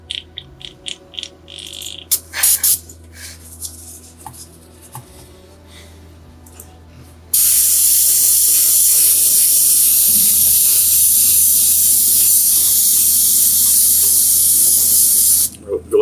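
An airbrush sprays thinned glaze onto miniature fallen pillars, opening with a few soft handling taps before a steady, close, loud hiss runs unbroken for about eight seconds and then cuts off.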